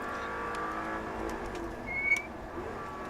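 Audi R8 V8 engine on a Las Vegas track, humming steadily as the throttle is rolled on smoothly, with a brief sharp tire squeal or whine near the two-second mark.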